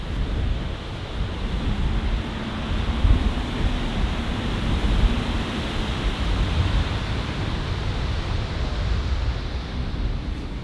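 Waterfall in Iceland seen from a viewpoint, a dense, steady broadband rush of falling water with some wind buffeting, loud and unbroken throughout.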